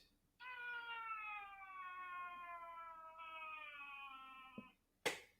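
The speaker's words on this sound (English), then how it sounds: "Is that not the whiniest fucking meow you've ever fucking heard?" A cat lets out one long, drawn-out, whiny meow lasting about four seconds, close and clear in a quiet room, followed by a brief sharp knock.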